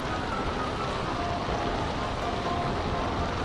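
Heavy rain as a cartoon sound effect, a dense, constant hiss of downpour pounding surfaces at steady loudness with no voices or other sounds.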